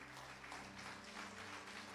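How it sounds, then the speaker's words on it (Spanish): A church congregation claps in a brief, even burst, moderately loud over a low steady hum, with no voices rising above it. "Denle un aplauso a Jesús."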